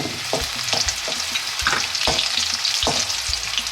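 Chopped ginger pieces fry steadily in hot oil for a Kerala-style lemon pickle, a dense continuous sizzle broken by a few sharp stirring scrapes, close and fairly loud with no voices.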